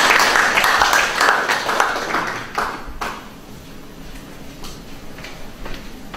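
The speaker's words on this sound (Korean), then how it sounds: "박수로 환영합니다" An audience at a healing seminar claps to welcome a speaker, a dense burst of applause that gradually thins into scattered claps.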